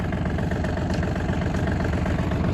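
A Yanmar RS-24 Japanese mini tractor engine runs steadily at a close, loud, even idle with a constant low rumble and vibration, no pauses or talk.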